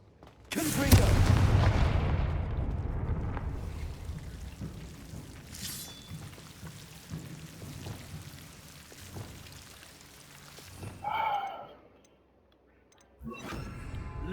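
Confringo fire spell explosions in Hogwarts Legacy, a loud booming blast at the start that decays slowly, followed by scattered crackles and a second short burst later, with brief gaps of near silence.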